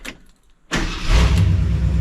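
A 1972 Ford F-100 pickup truck engine starts and settles into a loud, steady, smooth idle after a brief quiet moment, close to the microphone.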